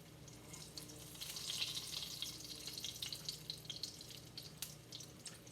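Steady, gentle sizzling of a cutlet frying in oil, a continuous crackle with small pops, fairly quiet and close.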